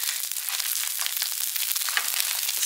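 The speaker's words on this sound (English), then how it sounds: "Ooh, you hear that sizzle?" Steady, crackling sizzle of fish frying skin side down in hot oil and butter, close up and continuous.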